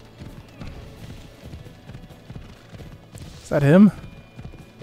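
Steady clip-clop of horse hooves at a walking pace in the video game Assassin's Creed Odyssey, with a short spoken question near the end.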